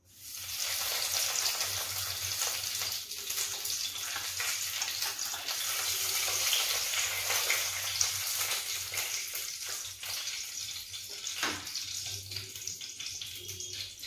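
Bay leaf sizzling in hot ghee in a pan, a steady, close crackling fry that fills the whole stretch without pause, with a few brief louder spits along the way and no talking.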